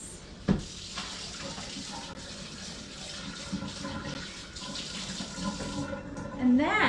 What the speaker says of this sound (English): Just hot water, rinse.